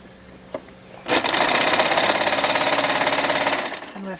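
A sewing machine hems a strapless twisted dress, starting after a brief pause with a single click, then running steadily and loudly at a fast, even stitching rhythm for about three seconds before slowing down.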